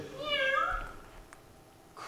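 A cat meowing in an animated film, a single drawn-out meow near the start that fades out, fairly faint, followed by quiet.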